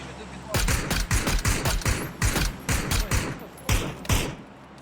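Bursts of rapid, punchy gunfire crack in uneven volleys, loud and close, with short gaps between the strings of shots.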